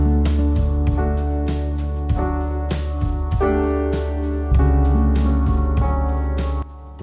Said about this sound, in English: Part 3, we add in drums, we also add in a bass, and we also add in the guitar